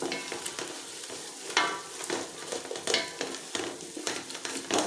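A spoon scrapes and stirs tomatoes and potatoes into a paste in a pan, with soft sizzling throughout and repeated louder scrapes at an irregular rhythm; no talking.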